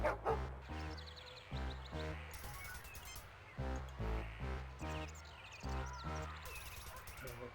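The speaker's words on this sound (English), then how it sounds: "I would not get near that dog if I were you, Jim. It's suffering from rabies." A rabid Terran dog barking in the retro PC game Star Trek Judgement Rites, a repeated run of loud, rhythmic synthesized barks in short bursts, close and alone.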